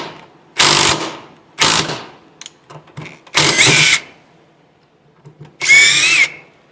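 A Metabo HPT 18V triple hammer bolt tool in single bolt mode makes four short, loud whirring bursts, each about half a second long, separated by brief pauses with small clicks and rattles in between.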